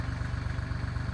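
A tractor fitted with a box blade runs on a storm-damaged dirt road, its engine making a brief, steady, low rhythmic throb.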